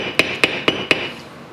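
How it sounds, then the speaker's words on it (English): A metal pin hammered into the slide of an HK USP 45 pistol during reassembly: four sharp, ringing metallic taps at an even pace, close and loud, followed by a fading ring with no talking. "I'll start hammering that pin in"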